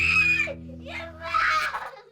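Four-year-old children scream during a violent tantrum at home, shrill wailing cries in close bursts with an adult voice mixed in.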